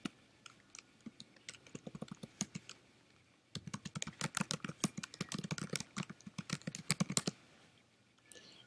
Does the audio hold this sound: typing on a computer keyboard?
yes